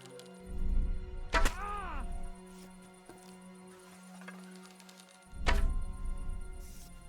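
Arrows thud into their targets in the medieval Kingdom Come 2 game. Two heavy thunks land a few seconds apart over a low ambient hum, and a voice cries out briefly between them.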